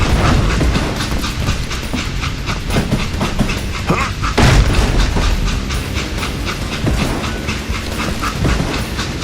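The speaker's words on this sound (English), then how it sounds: "It was then that Jesse detached the express car from the rest of the damn train" Train in the Western video game Call of Juarez Gunslinger, a loud, continuous rumble with a rhythmic clickety-clack of wheels on rails and faint hiss, running steadily throughout.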